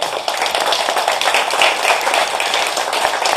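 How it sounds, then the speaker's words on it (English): An audience at a candidate forum for a court seat applauds loudly, a thick wash of clapping that holds steady throughout with no talk. "Let's show our appreciation with a round of applause for our campus."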